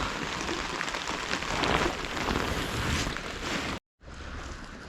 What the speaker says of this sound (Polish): I patrzcie jaka ulewa.